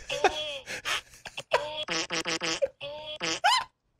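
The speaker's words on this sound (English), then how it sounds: "All you have to do is type in fart soundboard." Playback from an internet fart soundboard: a string of short, buzzy, pitched fart noises in quick uneven succession, loud and close, with a rising squeaky one at the end.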